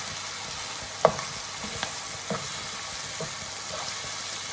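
Macaroni with chicken and vegetables stirred in a frying pan, a low continuous sizzle broken by a few distinct spoon scrapes and knocks against the pan, close and fairly quiet.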